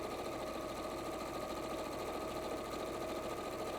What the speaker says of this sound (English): you sew down the other side. Not across the bottoms, just the 2 long sides.